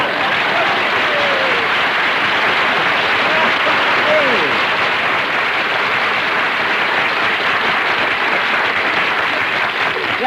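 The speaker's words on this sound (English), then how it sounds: "Everybody on the street is applauding." Loud, dense applause from a street crowd fills the whole stretch, a steady wash of many hands clapping at once with no break.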